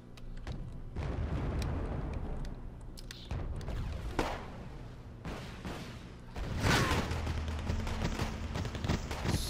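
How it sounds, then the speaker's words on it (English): Explosions and gunfire in the video game Wargame Red Dragon, with heavy booming blasts and crackling fire arriving in bursts over a rumbling battlefield background at moderate level. "I do make some pretty big, pretty gnarly explosions for just an infantry transport."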